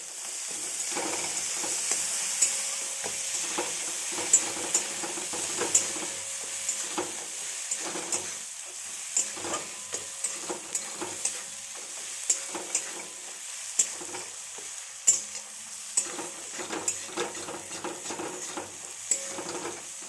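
Fish oil dish frying in a pan with coriander leaves added, a close, steady sizzle broken by scattered pops and the scrape and tap of stirring throughout.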